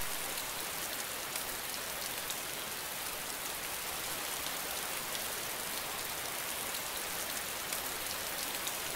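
Steady, dense rain hiss in the video game DayZ fills the scene without a break, an even wash of falling drops with no voices over it.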